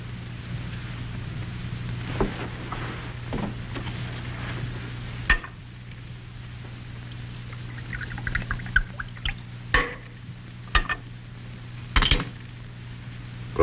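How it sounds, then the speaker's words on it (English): Wine poured into a glass at a table, a soft liquid pour against a steady low hum, with a few light clinks of glassware and cutlery scattered through. "Glass of wine, Sanchez?"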